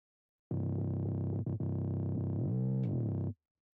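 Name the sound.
bass with FabFilter Saturn distortion, guitar-amp-like drive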